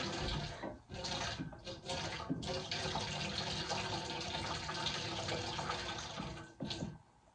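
Cold water runs steadily from a pot filler faucet in a remote Alaska home, a continuous broadband rush with a brief interruption near the start and another just before it cuts off.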